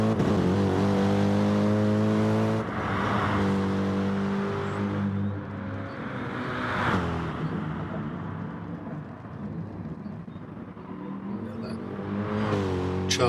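Race car engines in Gran Turismo Sport during a Super Series 700 race at Interlagos, Brazil, drone steadily and loudly throughout, with harmonic whines that shift in pitch as cars rev and change gear, and surges near the start and end.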